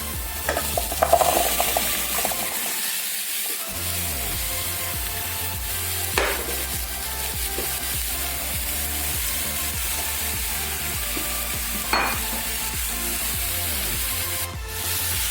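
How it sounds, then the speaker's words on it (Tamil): Pumpkin pieces hit a hot pan for a Tamil pumpkin poriyal, then sizzle and fry steadily while being stirred, with scraping and clinks of the spoon throughout and a brief quiet pause early on. "you need to drop the pumpkin in."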